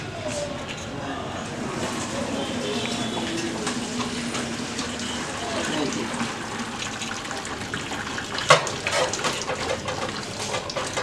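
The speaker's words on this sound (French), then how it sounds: "je vais rincer notre matembele" Steady running water from a tap while cassava leaves (matembele) are rinsed, a continuous splashing wash with a brief clatter near the end and a voice talking over it.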